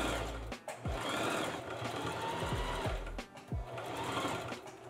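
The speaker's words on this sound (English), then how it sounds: "I just sewed a zigzag stitch from one side of the dot to the other" Sewing machine running a zigzag stitch on denim jeans, steady loud motor whir with short pauses and restarts across the stretch, no talk.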